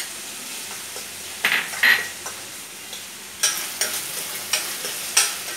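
Ginger garlic paste stirred in a hot pan for navarathan kurma, a spoon scraping and clinking against the pan in short, irregular strokes over a soft sizzle, close and alone.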